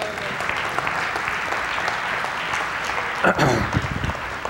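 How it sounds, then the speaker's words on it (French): A church congregation applauds together with steady, fairly loud clapping, joined near the end by a short burst of louder sound and a voice. "On les applaudit ensemble."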